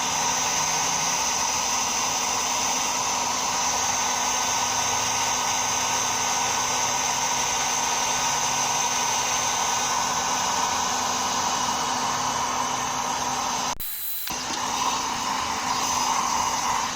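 Heat gun blowing hot air steadily onto a car headlight during a restoration, a continuous loud rushing hiss with a brief cutout near the end before it resumes.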